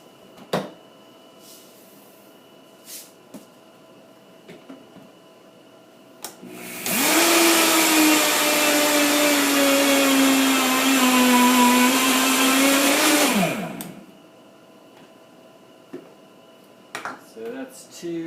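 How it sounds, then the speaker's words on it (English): A countertop blender grinds a cup of raw sesame seeds for tahini, a loud steady whirring drone of about six seconds between quiet stretches, the motor pitch sagging slightly as the seeds grind down. "It'll start to grind up the sesame seeds at the bottom"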